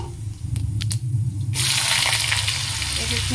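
Potatoes tipped into hot oil already seasoned with whole cumin, cooking a vegetarian paneer ghugni; a loud, dense sizzle bursts in partway through and holds steady, with low kitchen rumble before it and no talking.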